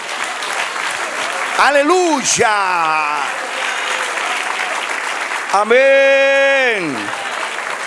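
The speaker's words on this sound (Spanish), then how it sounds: "Dale otro aplauso así." A church congregation at a sermon applauds steadily, a dense bed of clapping running throughout while voices call out loudly over it.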